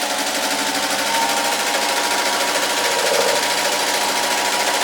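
A sewing machine stitches a quarter-inch seam on a churn dash quilt block, its needle chattering at a fast, even rate throughout at close range and steady volume.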